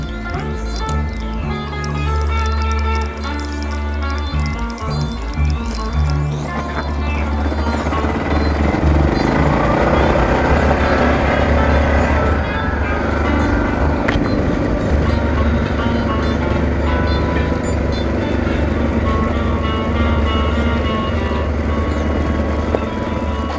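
A vehicle rides a loose dirt road on tires at 32 pounds of pressure, its engine a loud, steady close drone with continuous rumble and rattle throughout and no voices.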